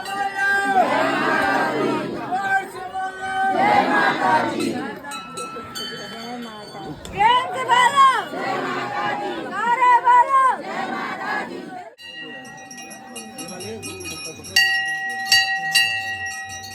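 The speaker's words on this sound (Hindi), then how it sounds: "बहुत भीड़ है संगवारी हो" Dense crowd of temple visitors at Turturiya, a loud mass of overlapping voices and shouts close around, with bells ringing through it and clearer bell strikes near the end.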